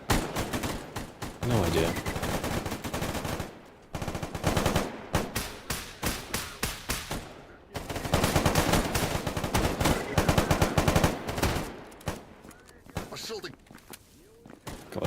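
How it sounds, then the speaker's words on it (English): Gunfire in STALKER GAMMA, with bursts of automatic shots and single cracks repeating through a chaotic firefight, loud and dense, while players talk over it. "What are you guys even shooting at?"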